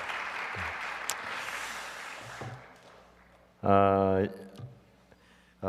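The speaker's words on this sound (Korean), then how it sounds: "더 힘찬 박수로 축하해 주시기 바랍니다." Applause fills a large church for a few seconds and fades, then a loud amplified voice cuts in over a fading clap.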